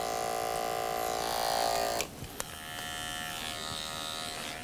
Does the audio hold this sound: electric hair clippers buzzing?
yes